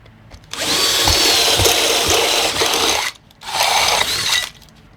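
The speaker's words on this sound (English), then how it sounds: "And I'm going to drill it out to 12 because that's the size I need." Step drill bit cutting a hole in a metal guitar pedal enclosure, a loud whining grind in two bursts, the first about two and a half seconds long, then a short pause and a second shorter run.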